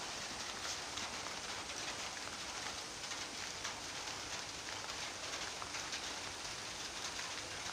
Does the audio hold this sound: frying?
no